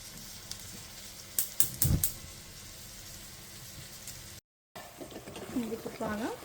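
Fish pieces dropped into simmering onion-paste curry gravy for a village-style Telugu fish curry, a soft ongoing sizzle and bubbling with a few splashy clatters, then quiet stirring sounds.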